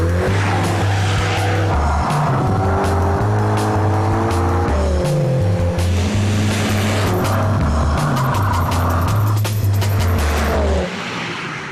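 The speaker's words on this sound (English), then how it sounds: "the Stig is in a mini John Cooper Works GP, one of the most hardcore hot hatches you can buy. And now he's going to use it to set a lap time" A Mini John Cooper Works GP hot hatch lapping a test track at full throttle, its engine loud and close, pitch climbing through each gear then dropping on upshifts, with tire squeal and no talking.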